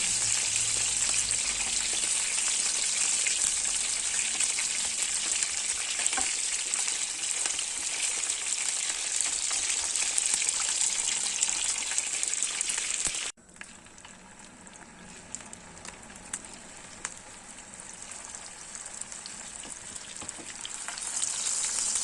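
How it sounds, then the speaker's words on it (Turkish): Meatballs sizzling and crackling in hot oil in a pan, a continuous close frying hiss that drops in level midway then builds again. "Bütün köftelere aynı işlemi uygulayalım çevirerek kontrol ederek kızartalım"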